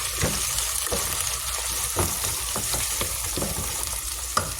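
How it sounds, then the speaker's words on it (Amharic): Onion sautéing in a pan for an Ethiopian dulet dish, a constant close, loud sizzle broken by regular scraping stirs roughly every half second. "እዚህ ጋር ደግሞ የቁሌቷን እያቁላለሁ ነው።"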